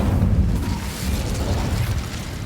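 An Incendio fire spell is cast in Hogwarts Legacy, giving a dense, roaring whoosh of flame that stays loud and steady through the short burst, with no speech over it.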